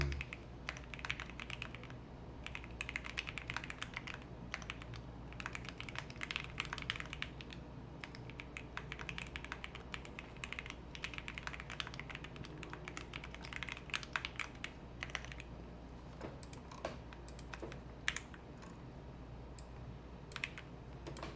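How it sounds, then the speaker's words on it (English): Rapid, continuous typing on a computer keyboard while working through a coding problem, dense key clicks in uneven bursts at close range over a low steady hum, with no talking. "It's a lot of typing this problem"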